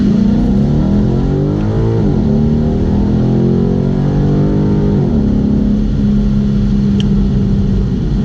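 A Ford Mustang engine in sport mode revs loud and close, the pitch climbing in sweeping rises, dropping around the midpoint and then climbing again in a sustained throaty drone.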